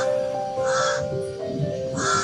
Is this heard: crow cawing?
yes